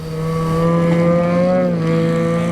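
A loud, droning snowmobile with an aftermarket exhaust passes close by on a trail, its raspy exhaust note rising slightly and then holding steady.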